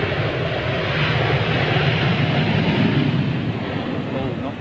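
A Korean Air Boeing 777 at Heathrow Airport gives a loud, steady jet engine roar lasting throughout, broad and sustained, with wind noise and faint voices in the background.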